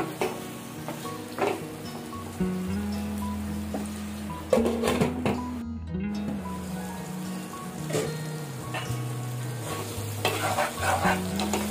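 Drumstick and dried fish curry with turmeric stirred in a pan, steady sizzling bubble with intermittent spoon scrapes against the pot, close by, while soft background music plays and nobody speaks.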